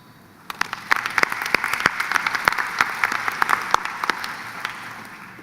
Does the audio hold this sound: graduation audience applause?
yes